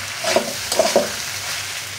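Pasta being stirred in a pan on the stove, a few soft scraping stirs with light sizzling, close and fairly quiet, no voices.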